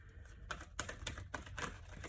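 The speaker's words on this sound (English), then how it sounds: "Let me shuffle more." Tarot cards being shuffled by hand, a series of crisp riffling snaps and flicks in irregular bursts, close and quiet over a low background hum.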